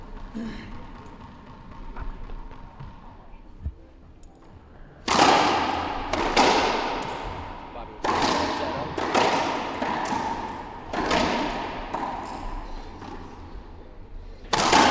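A racquetball singles semifinal match at the Shamrock Shootout, with loud, sharp ball impacts cracking off the court walls in a quick irregular rally that echoes in the enclosed court, while commentators talk underneath.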